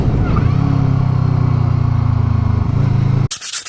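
A Voge 500R roadster motorcycle pulls away with a steady, low engine drone that holds for about three seconds before cutting off abruptly into wind noise.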